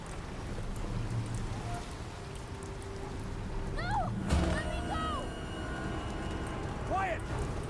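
Steady rain on a rooftop during a thunderstorm in the video game Dishonored, a constant hiss running throughout with a sharp thunder crack midway, and game sound effects layered on top.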